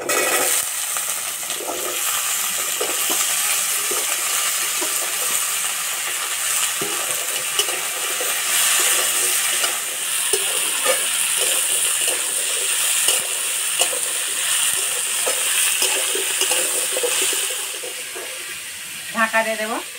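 Washed radish and radish greens go into a hot pan with crushed garlic, slit green chillies and chopped onion, setting off a loud, continuous sizzle with stirring scrapes throughout that eases slightly near the end.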